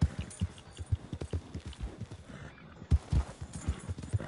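Horse hooves clip-clop in a steady walking rhythm inside a video game, close and moderately loud, with a few heavier thuds and a brief pause midway.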